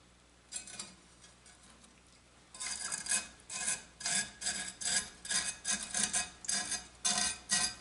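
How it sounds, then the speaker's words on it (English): A brush scrubs gunk from the teeth of a saw blade with a cleaning kit, close and quiet. A few light scratches lead into a steady rhythm of about a dozen rasping back-and-forth strokes. "I can take care of that with this brush"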